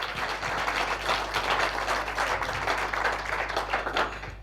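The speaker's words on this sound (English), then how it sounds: "let's give him a big round of applause" Audience applause at a talk before a coffee break: steady, dense clapping from a crowd over four seconds, with a low hum underneath.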